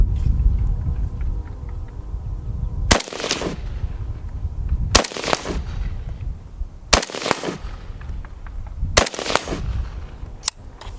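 Four sharp rifle shots from a Century Arms RAS-47 AK at an outdoor range, spaced about two seconds apart, loud and close, each with a brief echoing tail over low background rumble.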